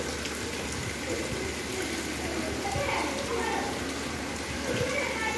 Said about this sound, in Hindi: यहाँ देख सकते हैं बारिश अभी भी हो रही है,